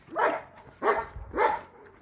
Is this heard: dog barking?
yes